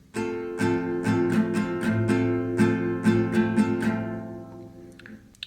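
Acoustic guitar strummed at a quicker tempo in a down-down-up-up pattern, bright chord hits repeating steadily and up close, ending on a ringing chord that fades out.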